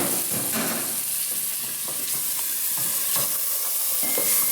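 Red masoor dal poured into a hot pan in a kitchen, giving a steady close sizzle and hiss with stirring clatter and small bumps throughout, no talking.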